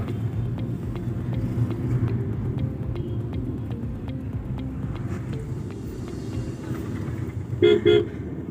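Traffic crosses a single-lane bridge, with a low rumble of passing vehicles, a few faint taps, and a loud car horn honking twice near the end.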